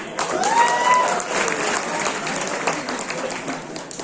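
Applause from a student audience at an NIT Sikkim annual fest, moderate and continuous for about four seconds, with a brief whistle-like tone near the start.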